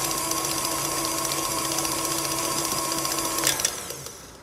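An electric mixer blends fruit cake batter after salt is added, giving a steady, close motor whir that runs evenly and then winds down at the end.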